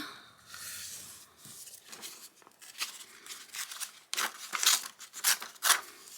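Paper is torn from an old book in several short ripping bursts that grow louder and sharper toward the end, close up against a quiet room.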